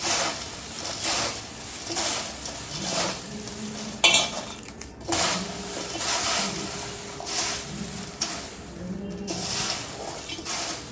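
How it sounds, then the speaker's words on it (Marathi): Roasted poha chivda tossed by hand with a spoonful of sugar in a pan, giving a steady dry rustling and stirring scrape with a few sharper clinks, close and continuous with no talk. "असं हातानेच मी पूर्ण मिक्स करून घेते"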